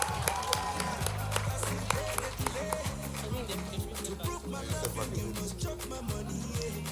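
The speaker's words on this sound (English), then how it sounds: "Please, don't stop clapping now." Crowd applause at a tech conference awards moment, steady clapping from many hands mixed with cheering while loud music with a thumping beat plays throughout.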